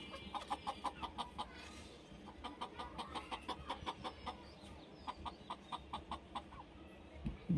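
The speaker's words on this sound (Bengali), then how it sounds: "আমার মুরগিগুলো দেখো" Hens cluck in a small backyard coop, a busy run of short rhythmic clucks from several birds, fairly faint, continuing steadily throughout.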